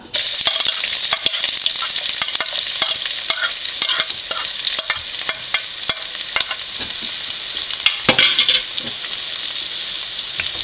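Chopped onion sautés in a pan for a jackfruit-seed stir-fry, making a loud, steady, close-up sizzle broken by frequent clicks and scrapes from stirring.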